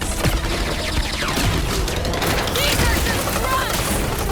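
Heavy gunfire in the Marvel's Guardians of the Galaxy video game: dense, continuous bursts of shots and booms from big guns fill the whole stretch loudly, with voices in the game mixed underneath.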